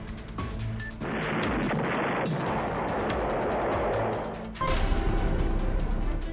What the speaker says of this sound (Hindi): ब्रह्मोस मिसाइल को भारत का ब्रह्मास्त्र कहा जाता है। इसी ब्रह्मास्त्र का कामयाब परीक्षण आज किया गया।